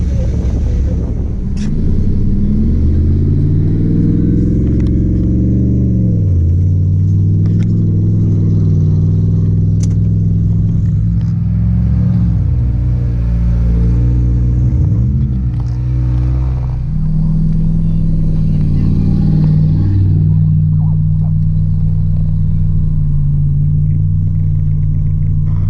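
A car rolls along the road after a tire was reseated on its bead and reinflated, engine rumbling steadily and close by with shifting revs throughout, no talking.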